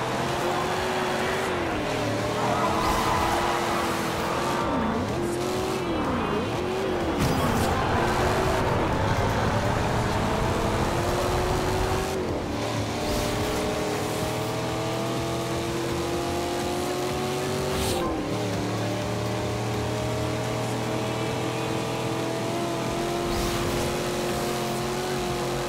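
Race cars in Forza Horizon 2 on Xbox One roar through a race, their engines revving and shifting pitch up and down as they accelerate and pass, a continuous loud motor drone with occasional quieter dips.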